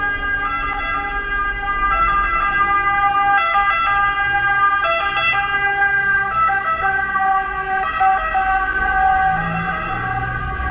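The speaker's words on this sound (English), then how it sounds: "I always have to plug my ears anytime a cop or an ambulance goes rolling by" A loud wailing ambulance siren cycles repeatedly, close by and sustained, over a low rumble of traffic on a town street in Tivoli, Lazio, Italy.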